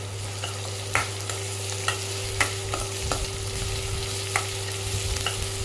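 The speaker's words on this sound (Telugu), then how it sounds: "ఇప్పుడైతే పచ్చిమిర్చి అయితే వేసుకున్నాము ఇవైతే బాగా ఇట్లా రోస్ట్ అయితే అవ్వాలి" Green chilies roast in a hot pan with a steady low sizzle, and a spatula scrapes at roughly one-second intervals in sharp distinct knocks, close up with a constant low hum behind it and no talking.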